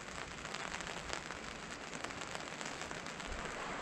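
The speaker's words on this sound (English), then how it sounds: "we're just gonna have to live with the rain" Rain falls steadily on a Zempire Pronto Air tent at a campsite, a dense, even patter that stays close and constant throughout with no voices.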